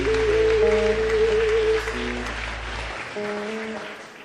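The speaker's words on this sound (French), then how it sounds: "Bah, il y a un applaudissement." A church congregation applauds during a prayer service, steady clapping under sustained organ-like tones and a low hum that drops away near the end.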